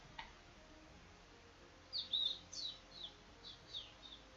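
Bird calling outdoors, a few short high chirps coming in a loose series from a moderate distance over faint background hiss.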